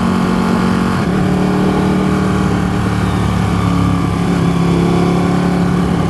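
A Ducati 1299 Panigale S sport motorcycle engine runs steadily and loud throughout, a low droning hum with a slight pitch shift near the start, no voices.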